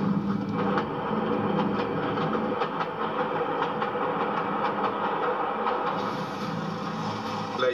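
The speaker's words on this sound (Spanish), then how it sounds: "La mayoría llegó en tren." A train rolls steadily along railway tracks with a continuous rumbling roar and repeated clickety-clack of wheels over rail joints, loud and close throughout, with no voices.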